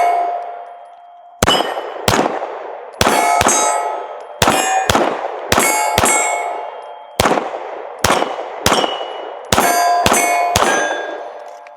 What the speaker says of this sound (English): We're just gonna run through a couple mags and keep on testing